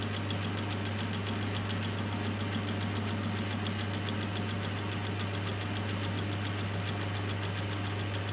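A metal lathe set up for milling takes a light 5 thou cut, giving a steady, continuous machining drone with a strong low hum and fine rapid chatter running throughout, no speech.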